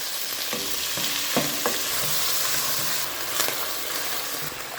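About 70 grams of chicken cubes frying in hot oil, a steady crackling sizzle with scattered pops and the occasional scrape of a spoon stirring the pan, close and alone.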